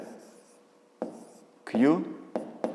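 Pen strokes scratch on paper while a math exercise is written out, a few short bursts of scribbling near the microphone, with a voice speaking briefly between them.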